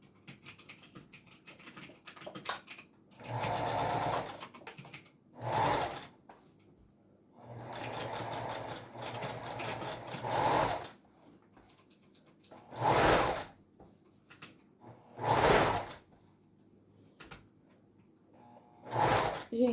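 A domestic sewing machine stitches the small arms of a Christmas Santa doll. The runs come in repeated bursts, some of them several seconds long and others short and sharp, close and moderately loud, with pauses between them.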